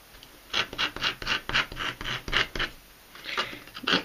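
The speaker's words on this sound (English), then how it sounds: "just a couple of scrapes, just to make it nice and smooth" Scraping a wooden fingerboard smooth: a quick run of about a dozen rasping scrapes, close and fairly loud, in a steady rhythm with a short pause near the end.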